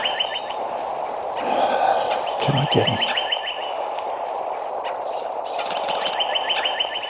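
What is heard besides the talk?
bird chirping in brush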